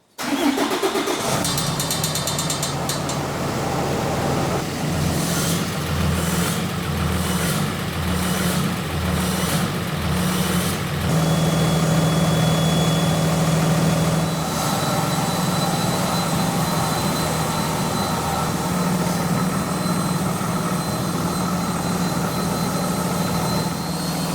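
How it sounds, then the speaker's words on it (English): A Cummins 6.7 diesel pickup with a coolant leak cranks briefly, catches and settles into a steady, loud, rumbling idle that continues without a break. "Now we start her up."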